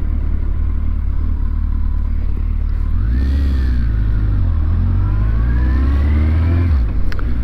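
A Suzuki GSX 1400 motorcycle rides along with a loud, close engine drone. Its pitch rises and falls steadily as the rider speeds up and eases off, under constant road and wind noise, with no talking.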